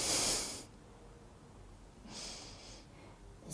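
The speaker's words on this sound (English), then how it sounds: "this is also a moment when we hear her breathing" A woman breathes audibly in two soft, airy breaths close to the microphone, separated by quiet, with no talking.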